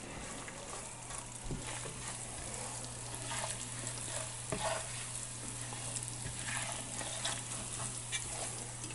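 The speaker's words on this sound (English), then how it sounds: "Oh, look at that, it's bubbling." A soft, steady bubbling and faint sizzling from a pot of Mauritian vegetable stew, quiet and continuous with occasional small pops, no voices.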